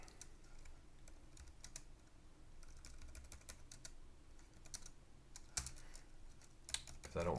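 Keys clatter on a computer keyboard in quick, irregular bursts of typing, quiet and close, with a couple of sharper taps toward the end.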